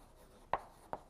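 Two short chalk taps and strokes on a lecture board in a quiet hall, spaced about a half second apart, with no talking.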